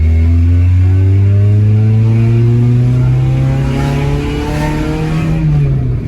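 A car engine revving and accelerating, its pitch climbing smoothly and steadily over several seconds, loud and close with no talking.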